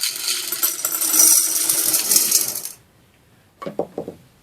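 Small white decorative stones pour and clatter in a continuous rattling stream, then stop; after a pause, a few quieter clicks as more land.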